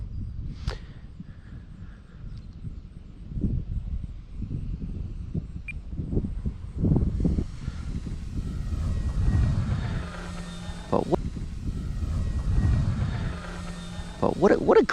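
A Volantex Trainstar Ascent RC trainer airplane flies overhead, its small electric motor whining faintly and shifting in pitch as it passes, under intermittent outdoor talk and wind.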